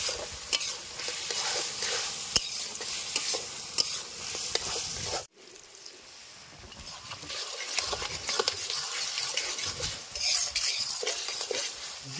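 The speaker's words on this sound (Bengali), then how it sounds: "ভেজে নেবো চিকেন" Chicken fries in a pan for garlic pasta, a loud continuous sizzle with steady stirring and scraping close by, briefly dropping off in the middle before resuming.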